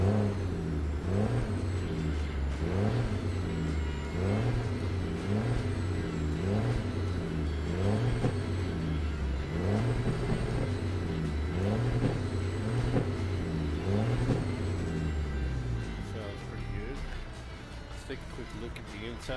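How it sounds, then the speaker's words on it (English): A Detroit Diesel 14-liter engine in a Peterbilt 379 truck in American Truck Simulator revs up and down in steady repeating cycles, a loud droning rumble that fades slightly near the end, with someone talking throughout. "Am running the Z Mod Detroit diesel 14 liter engine in it."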